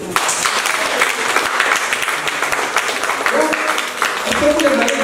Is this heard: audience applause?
yes